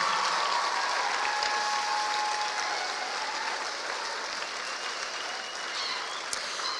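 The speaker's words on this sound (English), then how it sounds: "final round of applause before we say lots of thank yous to lots of people who deserve it" Sustained, dense applause from a theatre audience at a school production of Matilda the Musical Jr in Dubai, steady and even throughout with no voices over it.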